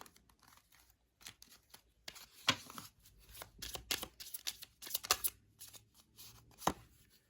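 A deck of tarot cards being shuffled at close range, with repeated riffling and soft slapping bursts that come in uneven clusters, alone without talk.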